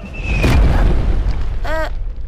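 A cartoon meteorite crashing down with a deep booming impact, followed by a springy whistling cartoon sound effect and a fading rumble.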